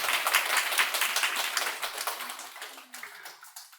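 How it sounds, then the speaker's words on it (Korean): A church congregation gives a round of encouraging applause, dense clapping that starts loud and full, then thins into scattered claps and fades over a few seconds. "우리 격려의 박수 한번 쳐주십시오."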